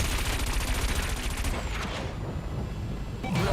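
Rapid bursts of cannon weapon fire from an anti-gravity racing craft in the video game Wipeout 2048, loud and dense for about a second and a half, then giving way to a steady engine roar with a brief burst at the end.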